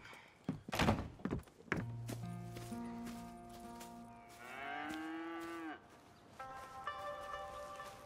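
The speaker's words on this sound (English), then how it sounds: "I was going to milk the cows." Cattle moo loudly in the Red Dead Redemption video game, one long drawn-out bellow standing out from farmyard thuds and other game sounds, with brief speech nearby.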